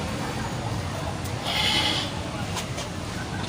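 A goat bleats at a livestock market in Karachi. One short, high cry rises over crowd noise and nearby talk.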